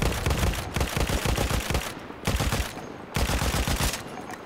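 Rapid bursts of weak rifle fire in Battlefield 1, close and loud, coming in three clustered volleys separated by short gaps.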